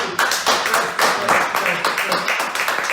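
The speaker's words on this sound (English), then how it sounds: "Please clap for that." A live political audience claps in a scattered, uneven patter of separate hand claps for a few seconds, with faint voices mixed underneath.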